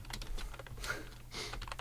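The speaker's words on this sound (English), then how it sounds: "I will say my keyboard's much louder in this position." Rapid clacking of keys on a loud computer keyboard, close and uneven in rhythm with brief bursts, over a low steady hum and no speech.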